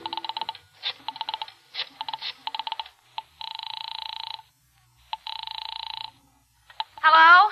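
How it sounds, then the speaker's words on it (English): Telephone number dialed in a radio drama: a series of dual-tone keypad beeps, some short and rapid, some held longer, with pauses between them, clear and close, ending in a brief warbling burst. "I found it and crawled over to it and started dialing my number"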